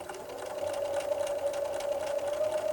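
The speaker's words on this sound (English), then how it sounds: "So we are ready to stitch, and again I'm using the left side of the presser foot" A sewing machine stitches a narrow pieced seam in a steady, continuous hum with a fast mechanical rhythm, close and moderately loud throughout with no talking.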